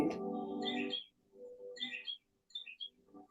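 Recorded bird song, edited and layered in Audacity, plays as clear chirps and whistled phrases in short bursts separated by brief silent gaps.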